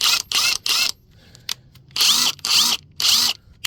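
Ridgid 1/2 inch cordless impact wrench spinning freely in forward, with three short loud whirring bursts, a pause with a faint tap, then three longer close bursts.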